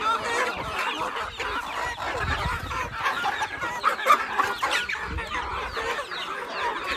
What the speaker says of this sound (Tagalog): magandang quality ng mga manok dito